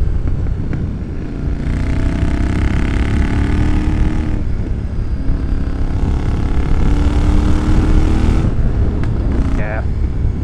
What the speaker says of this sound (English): This section might just be us riding our bikes beautifully on the pavement